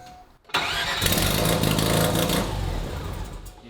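A rotary engine in a Corvette cranks over and catches, then runs loud and rough at a steady idle for about three seconds before tapering slightly at the end.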